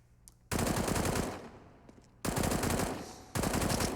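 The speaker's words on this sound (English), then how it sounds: "spamming some redundant bullets there through the smoke" Automatic gunfire sprayed through smoke in a CS:GO match on Mirage, heard as three loud, sustained bursts of rapid shots separated by quieter gaps.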